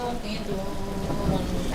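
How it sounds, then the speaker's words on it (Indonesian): Rain falls in a steady, dense patter at night, a constant hiss under faint tonal background sound, with no pauses across the short stretch. "Hujan telah turun lagi."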